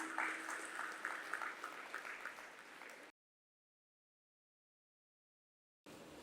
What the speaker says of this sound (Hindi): आइए ज़ोरदार तालियों के साथ स्वागत करें दीपिका सिंह का।